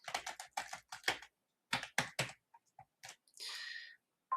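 Quick bursts of typing on a computer keyboard, close and crisp, in several short runs of key clicks separated by pauses, with one longer rattling stretch near the end.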